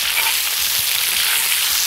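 Meat fries in a kazan over an open fire for a Georgian ojakhuri dish, giving a steady close hiss and crackle of sizzling fat with faint stirring knocks underneath.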